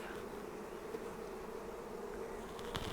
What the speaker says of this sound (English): we're going to shake the rest of the bees in